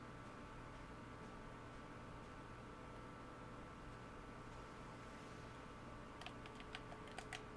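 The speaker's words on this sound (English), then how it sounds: "Oh, looks like I'm gonna have to use my keyboard for this." Brief burst of quick keystrokes on a computer keyboard near the end, soft clicks under a constant low hum of background noise.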